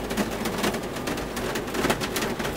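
Rain falling outside, heard as a steady, dense hiss of drops on surfaces, even and continuous at moderate loudness with no talk over it.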